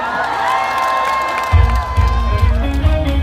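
Festival concert crowd in Songtan cheering, shouting and whooping loudly throughout, with heavy low thumping and shouts swelling in the second half.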